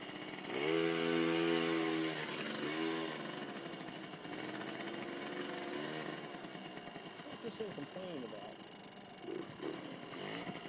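A 1985 Yamaha QT50 Yamahopper moped engine buzzes steadily during a ride, loud at first and then settling into a rough, uneven drone with wind noise and some talk over it.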